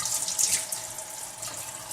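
Water running from an LED cascade faucet into a sink, a steady close hiss and splash that is fairly faint, with no talk.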